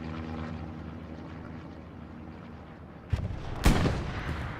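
Gunfire in the competitive World War II shooter Hell Let Loose: a sharp burst of shots around the three-second mark, then a louder, fuller blast just after, over a steady low rumble of battlefield ambience.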